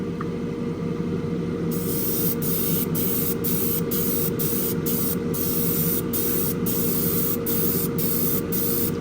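Clear coat sprayed onto a 1967 Chevrolet Impala Street Machine plastic model car kit from AMT: a steady, close aerosol hiss running unbroken for the whole stretch, with no voices.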